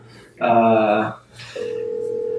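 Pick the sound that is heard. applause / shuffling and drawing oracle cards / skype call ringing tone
skype call ringing tone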